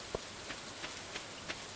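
Rain falls steadily in the Stardew Valley game, a soft, even hiss broken by a few faint drop-like ticks at irregular intervals.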